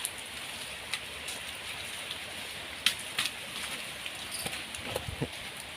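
Rain falling outdoors, a steady soft hiss of drops with scattered louder spatters and taps on nearby surfaces, fairly close and continuous.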